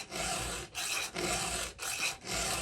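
Hand filing a new chainsaw chain: a file rasps across the cutters in four long, even strokes with short pauses between them, close and clear.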